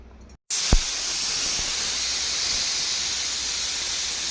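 Pressure cooker whistle while tomato rice cooks on a stove, a loud sustained steamy hiss that starts abruptly after a brief pause and continues steadily.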